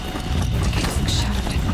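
Horse hooves clip-clop at a quick, steady pace in Horizon Zero Dawn near a bandit camp, loud and close under a busy mix of game ambience.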